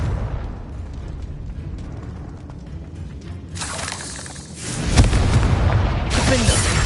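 Blast from the Confringo spell in a Harry Potter video game, a loud rushing explosion that swells midway and surges again near the end over continuous game noise.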